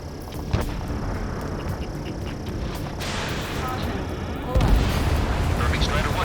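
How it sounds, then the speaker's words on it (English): Gunfire and roaring jets in the video game Ace Combat 7: sharp bangs over a constant engine roar that swells louder near the end. "Gunfire and the roar of jets echoing through the streets."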